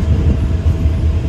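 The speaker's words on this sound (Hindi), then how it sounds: "ये गाँव गाँव के लिए लोकल ट्रेन है, चलती है" A local passenger train running on a village line toward Kashmir in fog, heard from inside as a loud, steady low rumble with rhythmic rolling throughout.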